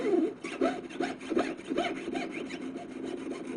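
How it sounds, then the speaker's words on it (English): A jeweler's saw frame cuts through metal for a goldsmithing earring project, giving steady, light, rhythmic back-and-forth rasping strokes close by, about a stroke every third of a second, with no talking. "You don't use much force on a saw frame like this."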